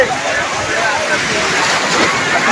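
Big sea waves surge and wash along the shore at Digha beach, a steady broadband roar of surf with wind buffeting the microphone throughout, loud and close.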